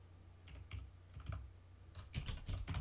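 Quick bursts of typing on a computer keyboard during a drawing game session, close and soft, with irregular clusters of key clicks and short pauses between them.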